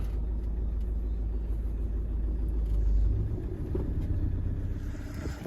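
Loaded KAMAZ truck carrying solar panels pulling away slowly, a steady deep engine rumble close by that swells slightly midway and then settles, with no talk.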